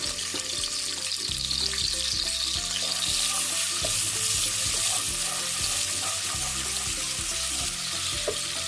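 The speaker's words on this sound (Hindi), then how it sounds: "इसके बाद इसमें हम डालेंगे प्याज।" Onions frying in a little lightly heated oil for a Kari Pakora and Murgh Shurba recipe, a steady broadband sizzle running throughout at moderate level with faint background kitchen noise.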